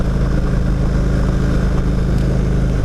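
A 2016 Indian Roadmaster motorcycle underway, its engine a steady, loud low drone with constant wind rush throughout, no talking.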